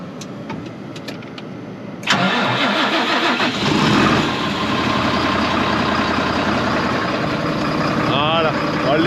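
A farm vehicle engine cranks and catches, then settles into a loud, steady idle left to warm up, with brief voices heard before it starts.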